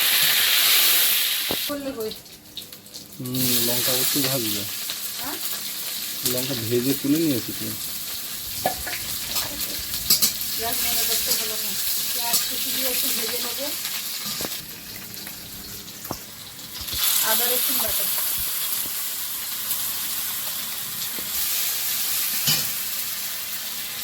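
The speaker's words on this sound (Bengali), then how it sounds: "কড়াইয়ে তেল দিয়েছি এবারে পাঁচ ফোড়ন বাড়ির গাছের তেজপাতা" Panch phoron spices and homegrown bay leaves fry in hot oil in a wok, giving a loud, steady sizzle with scraping stirs throughout and brief quieter gaps.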